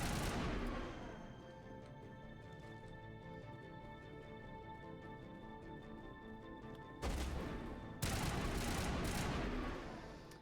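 Sustained rapid gunfire from a newly equipped weapon in Mass Effect Legendary Edition, a dense continuous burst that fills the clip, followed by two louder, harsher volleys near the end.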